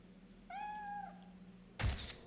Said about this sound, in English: Who's a cute little Satan kitty?